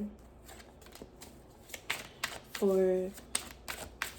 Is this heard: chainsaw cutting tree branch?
no